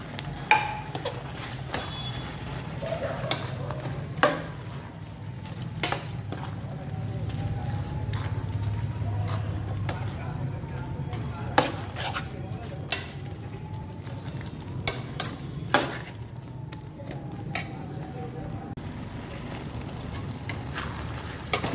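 Gobi manchurian with cauliflower and spring onion greens stirred in a frying pan produces a low steady sizzle broken by sharp, irregular clicks and scrapes of the spoon against the pan.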